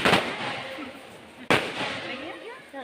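Firecrackers set off outdoors during a family anniversary celebration burst in two sharp, loud bangs about a second and a half apart, each followed by a crackling, echoing tail; faint voices murmur in the background.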